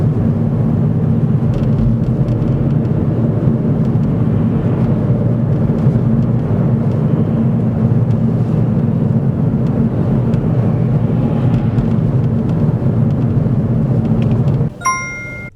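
A learner's car driving along during a driving test, heard from inside as a loud, steady low engine and road rumble throughout, ending with a brief chiming ding.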